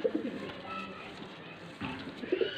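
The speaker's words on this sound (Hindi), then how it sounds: "ये जनाब पांचवा कबूतर है" Pigeons for sale in Faisalabad coo softly at close range in low, throaty murmurs, with several rounds over a few seconds against a faint background.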